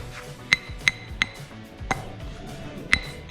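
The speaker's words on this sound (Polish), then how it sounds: "w tym miejscu będzie nam potrzebne dłutko, które zrobił pan tata" A homemade chisel is struck to cut recesses for electrical boxes, producing about seven sharp, ringing metallic taps at uneven intervals over a quiet background.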